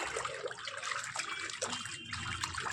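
A child splashes and dabbles in water, giving a continuous close trickling and slopping with small irregular surges and no talk.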